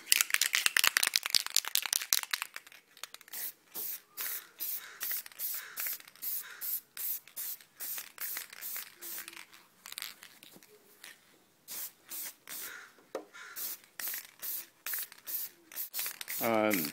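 Repeated hissing bursts of a spray paint can coating a Lexan RC car body shell, short and close up, come in a rapid flurry and then as spaced sprays with pauses between them.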